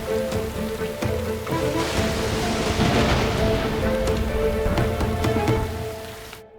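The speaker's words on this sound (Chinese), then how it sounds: "这雨久久不停" Heavy, steady rain pours down in a downpour with dense hiss and patter across the whole span, swelling in the middle and tapering off at the end.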